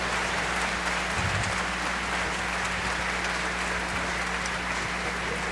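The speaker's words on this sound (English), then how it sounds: "Give all these wonderful ensembles another round of applause" A large concert audience applauds the ensembles at the SEC Music Festival Grand Finale, a loud, dense, unbroken roar of clapping that holds steady from start to finish.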